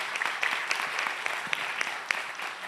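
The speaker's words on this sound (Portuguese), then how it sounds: "salva de palmas" Applause from a small audience at a panel talk, brisk scattered clapping of modest size, rather quiet and over after a few seconds.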